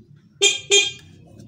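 Two loud blasts of a motorcycle horn with a short gap between them, sounded while the bike's battery current and starter are being checked, over a low idle rumble.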